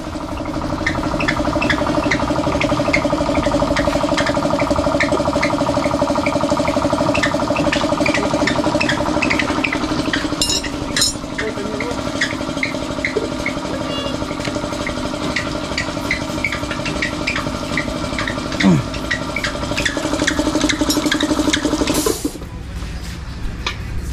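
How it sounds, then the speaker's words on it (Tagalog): An automatic air compressor runs continuously with a steady, droning motor hum close by, with brief clanks and a hiss, then cuts off near the end. "Ayan po, kompresor. Automatic dyan sa pagsaka ng kuryente, automatic andar."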